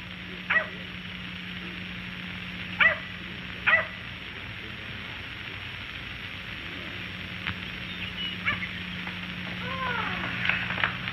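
A dog in an old 1946 Hollywood film gives a few short, sharp yips and barks spaced across the scene over a steady background hum.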